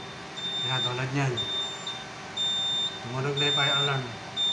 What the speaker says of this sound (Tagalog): Tumunog na yung fire alarm.